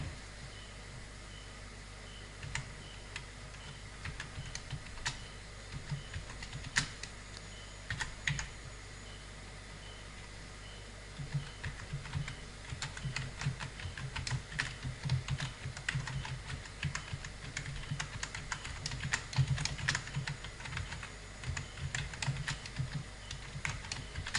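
Fingers type on a computer keyboard for a long stretch, giving irregular clusters of light key clicks that grow busier in the second half, all close and fairly quiet with no talking.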